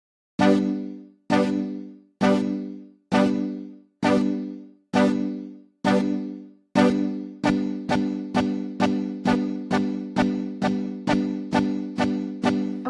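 Supersaw synthesizer chords with twelve voices and reverb, made in FL Studio Mobile, struck one at a time. The first hits are slow and evenly spaced, then they quicken into a fast steady pulse, each bright stab decaying into its reverb tail.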